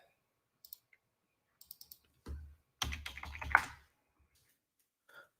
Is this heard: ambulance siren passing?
no